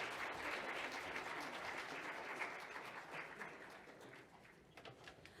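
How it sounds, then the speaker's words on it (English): Audience applause for a panelist at a gathering on unmarked burials in Winnipeg, a steady wash of many hands clapping throughout that slowly thins and fades toward the end, with no talking over it. "Let's give her a big round of applause."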